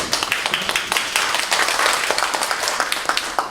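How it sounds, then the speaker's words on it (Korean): Warm audience applause at a Korean food and drug safety forum, steady dense clapping throughout with a few sharper claps standing out, no talk over it. "앞으로 나오실 때 따뜻한 박수 부탁드립니다."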